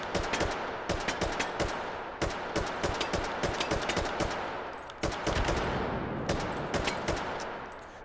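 An RPK machine gun fires in the VR game Hot Dogs, Horseshoes and Hand Grenades: three long automatic bursts of rapid, loud shots, each trailing off into echo before a short pause.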